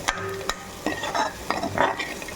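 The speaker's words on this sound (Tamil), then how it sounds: "அடுப்பை சிம்மில் போட்டுட்டு நல்லா கரட்டி விட்டுருங்க." Raw banana masiyal with grated coconut stirred in a pan over low heat, a few quick scraping and tapping strokes against the pan over a soft sizzle.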